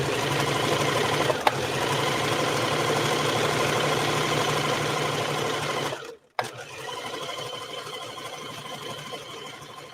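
A sewing machine stitches fabric steadily in a loud, continuous whirring run that cuts out briefly near the end and then resumes, with no talking.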